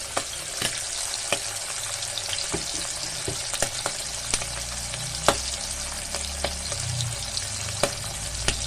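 Hilsa fish frying in a pan for mustard hilsa, giving a steady broadband sizzle with scattered sharp pops and crackles throughout, close and continuous with no voices.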